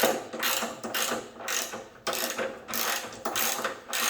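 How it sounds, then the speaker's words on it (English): A hand ratchet spins fender bolts down on a Chevrolet Silverado or GMC Sierra, rapid clicking bursts repeating in about six short runs with brief pauses between, close and clear with no talking. "What we want to do is run our bolts down just loosely enough that we can get an alignment on the fender"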